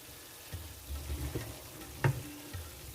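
Curry being stirred in a frying pan with base gravy, a Chicken Madras on the bone: soft scraping and sizzling with a few louder spoon knocks against the pan, close and steady, no talking.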